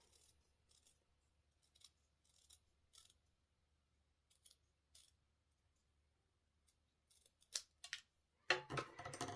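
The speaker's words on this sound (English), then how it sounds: "I'm going to take a pair of paper snips and cut off a strip" Paper snips cutting a strip of paper, a series of soft, sparse snipping clicks that grow louder toward the end, close and quiet with no talk.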